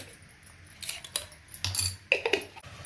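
Moong dal halwa with cardamom powder being stirred in a pan, producing irregular metallic clinks, taps and scrapes of a spoon against the pan in quick bursts, close and fairly clear over a quiet background.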